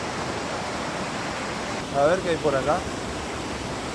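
Steady rushing roar of the Cascada Virgen de la Merced waterfall near El Bolsón, constant and enveloping, with a voice briefly speaking over it midway.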